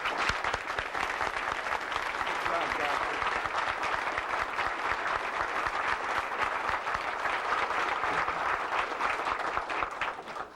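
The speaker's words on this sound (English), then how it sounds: "I'm sure our guest of honor wouldn't mind if you joined me in a round of applause" A dinner crowd at a 1986 Republican Party event gives steady, dense applause that holds at an even level for about ten seconds before tapering at the end.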